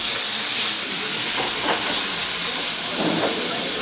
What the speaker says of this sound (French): on a mis nos asperges. La poêle était un peu chaude.